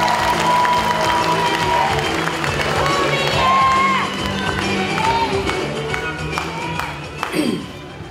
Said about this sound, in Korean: 추미애 당대표님을 뜨거운 박수로 맞이해 주시기 바랍니다